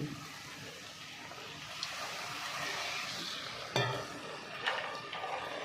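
Slices of ripe kanthali banana dough, shaped like puris, fry in hot white oil in a kadai with a steady close sizzle, plus a couple of brief clinks from a utensil against the pan.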